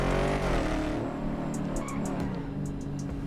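A Cadillac CT5 on Forgiato wheels in GTA 5 accelerates with a loud, sustained engine drone whose pitch shifts as it revs, heard close with faint clicks over the top.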